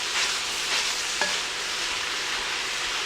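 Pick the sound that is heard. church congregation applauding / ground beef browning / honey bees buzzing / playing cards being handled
ground beef browning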